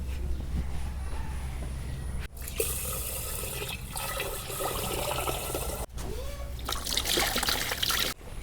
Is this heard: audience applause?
no